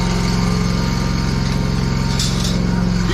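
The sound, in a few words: Kawasaki lawn mower engine running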